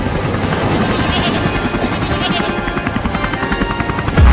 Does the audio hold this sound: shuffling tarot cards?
no